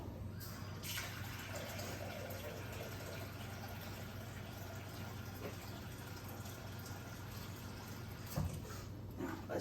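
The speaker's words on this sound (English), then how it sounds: "let me go get some more water because I got to get my water inside my canner up to my fill line" Water being added to a pressure canner up to its fill line while canning green beans, a quiet, continuous trickling fill with a low steady hum beneath and a few clunks near the end.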